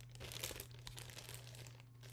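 A plastic bag crinkles quietly and continuously up close for about two seconds, a soft rustling texture over a low steady hum with no talk.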